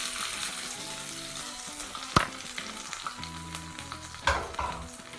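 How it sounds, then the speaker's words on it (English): Hot mustard seed and curry leaf tempering poured into coconut chutney crackles and sizzles steadily, with two sharper splashing bursts as the oil hits, close and moderately loud. "Let's add this tadka to the nariyal chutney."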